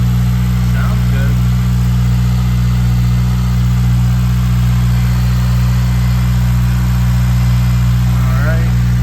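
Close, loud and steady, an 8th-gen Honda Civic Si engine without its supercharger holds an even idle hum with strong low harmonics, and short faint bits of speech come through near the start and end.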